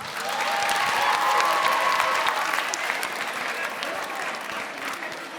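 Loud, sustained applause from a studio audience of middle-school students at the end of a televised debate on banning social networks for under-15s, a dense wash of clapping that holds steady and then slowly eases.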